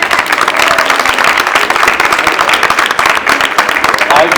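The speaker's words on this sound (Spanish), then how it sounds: "Un aplauso para él, por favor." Audience applause at a storytelling session during the Bogotá book fair, a dense, steady wash of many hands clapping close and loud throughout, with a few voices mixed in.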